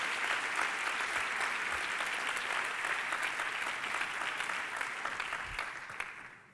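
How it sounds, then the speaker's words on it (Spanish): A conference audience applauds in a large hall, sustained and even clapping from many hands at a moderate distance, with no voices over it, tapering slightly toward the end. "por favor un aplauso porque sin ellos no habría sido posible"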